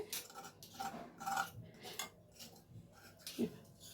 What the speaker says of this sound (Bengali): প্রত্যেকটা মাছকে আমি এই পাত্রটার মধ্যে তুলে নিলাম।